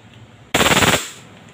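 A WE Glock 18c airsoft gas blowback pistol fires full auto, a sudden loud close burst of about eight rapid shots in half a second, followed by a short decaying echo.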